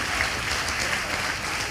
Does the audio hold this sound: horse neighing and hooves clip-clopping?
no